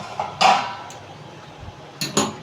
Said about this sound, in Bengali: ঢাকনাটা তুলে দেখি